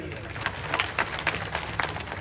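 A crowd at a village anti-drug pledge in Singar, Mewat, claps again for itself in a short, moderately faint burst of massed handclaps with a few louder peaks.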